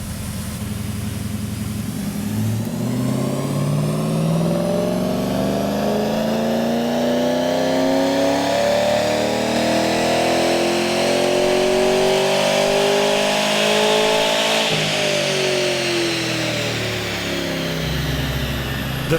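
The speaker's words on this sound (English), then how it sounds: "The Falcon sounds absolutely incredible, and Scotty's happy with the baseline tune." A Ford Falcon V8 revs on a dyno during a baseline tuning run, its roar climbing steadily in pitch for most of twenty seconds before easing back, loud and continuous.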